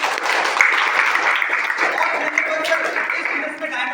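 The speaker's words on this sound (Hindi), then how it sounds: "एक बार जोरदार ताली" A seminar audience breaks into loud, sustained applause that fills the room evenly for several seconds, with voices audible beneath the clapping.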